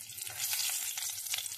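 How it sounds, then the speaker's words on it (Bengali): Spices sizzle in leftover oil from frying katla fish, a quiet, steady hissing crackle with brief spits, heard close and without any talking. "ওই মাছ ভাজার তেলেই আমি ফোড়ন দেবো।"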